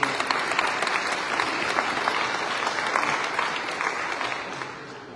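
A church congregation applauding in a sustained wash of clapping that is loud at first and tapers off slightly toward the end, with no clear speech over it.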